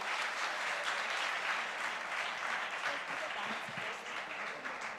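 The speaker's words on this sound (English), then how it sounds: "So big round of applause for her." Steady audience applause fills a hall at a festival talk on fearless love, a dense continuous patter of many hands clapping close and sustained throughout.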